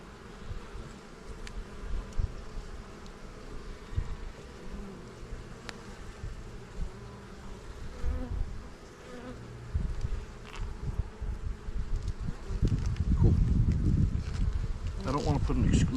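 Honey bees in an opened hive during an early spring apiary inspection, a dense continuous buzz close by that swells louder toward the end, with occasional handling knocks and no talk.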